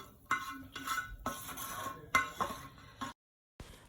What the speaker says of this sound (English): add it to the pot and give this a good mix